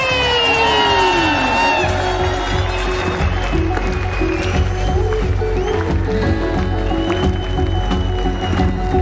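A large crowd cheers and whoops continuously at a corporate champion celebration event, loud and dense throughout, greeting the company's top leader, Mr. Anil Khuri.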